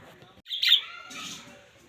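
Pet budgerigars give a brief, bright chirp followed by a softer trailing twitter, close by and over in under two seconds.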